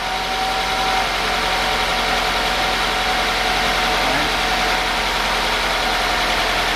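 Car engine idling just after a cold start during a head gasket check, a loud, close, steady drone with constant vibration and no change in pace.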